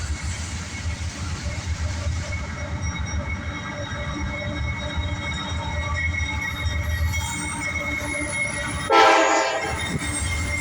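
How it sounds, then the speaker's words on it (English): A southbound mixed freight train rolls past on the railroad with a loud rumble of wagons, squealing wheels and a horn, while a person speaks nearby. "We got train coming, folks."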